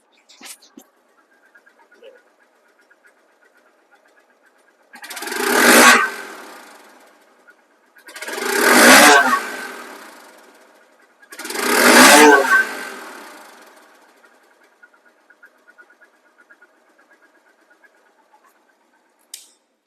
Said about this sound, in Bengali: এই বাইকটির সাউন্ড কোয়ালিটি শুনলে আরো অবাক হয়ে যাবেন